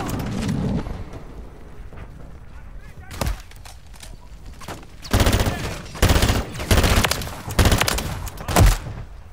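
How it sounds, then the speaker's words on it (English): Bursts of incoming gunfire in a shooter video game fighting a mega abomination, loud clustered volleys with short gaps, mixed with a player's shouted talk. "I'm taking fire!"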